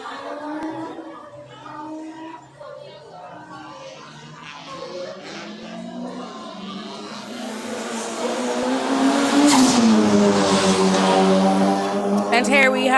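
Race cars on the final lap at the JRDC Carnival of Speed 2025, engines droning and rising as the cars pass, heard under continuous excited commentary from an announcer.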